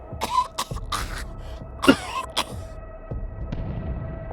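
A female character in the Wasteland 3 role-playing game coughs several times in short rough bursts over a low steady hum, with no talk.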